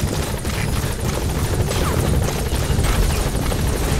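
A helicopter in Metal Gear Solid 5 video game roars close and loud with a steady rotor thump, filling the whole short stretch.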